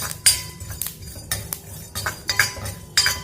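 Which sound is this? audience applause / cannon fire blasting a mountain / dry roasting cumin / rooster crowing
dry roasting cumin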